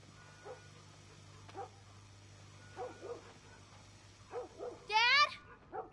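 Dog barking in The Last of Us video game, short yips and barks scattered among people talking, with a brighter bark burst toward the end.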